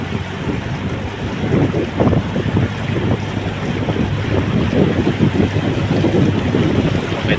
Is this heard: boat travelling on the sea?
yes